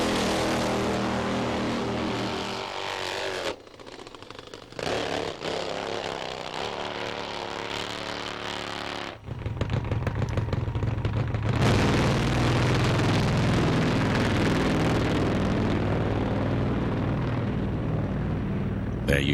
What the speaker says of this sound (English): Ian finally managed to get his bike down the track